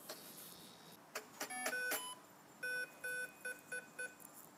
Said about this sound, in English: our initialization beeps have already happened